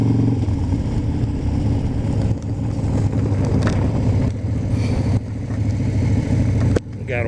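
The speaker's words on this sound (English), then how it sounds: "Just thought I'd take the 2012 Superglide Custom Harley out for a short ride today." A 2012 Harley-Davidson Super Glide Custom motorcycle rides along a city street, its engine rumbling loud and steady throughout with small dips in power, the drone continuous from start to finish with no talk.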